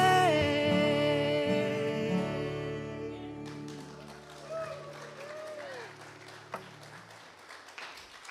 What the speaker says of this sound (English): We're clapping for that great cover and the fact that it is true.